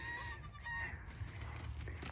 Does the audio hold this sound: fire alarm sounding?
no